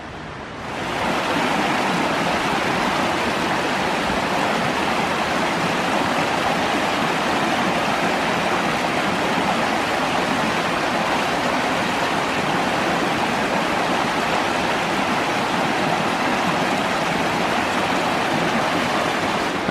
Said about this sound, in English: There's a roaring spring.